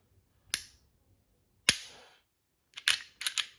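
A Glock 42 .380 Auto pistol, magazine removed, dry-fired several times, giving sharp isolated clicks: two single snaps, then a quick cluster of three or four, close and crisp against near silence.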